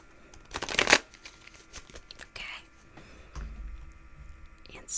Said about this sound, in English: as I shuffle this deck and get ready to answer some questions.